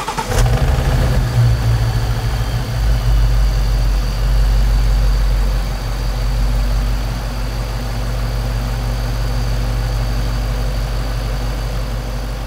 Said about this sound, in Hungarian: benne a hatalmas 8 hengeres szívó motorral